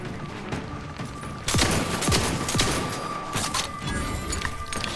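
Enemy gunfire in The Outer Worlds 2 crackles in rapid bursts, loud and close, with a sharp surge of shots midway and continued firing to the end over a busy combat background.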